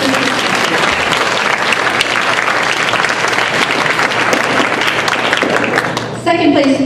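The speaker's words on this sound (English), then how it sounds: "so please give her a round of applause" A sustained round of applause fills the hall at an academic decathlon awards event, loud and even throughout, and someone begins speaking near the end.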